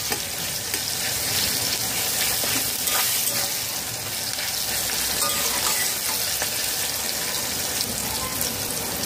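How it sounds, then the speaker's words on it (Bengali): Chopped onions with salt fry in a pan with a dense, continuous sizzle, close and steady throughout, with faint stirring scrapes under it. "কুচানো পেঁয়াজ দিয়ে 3 মিনিট কষিয়ে নিয়েছি"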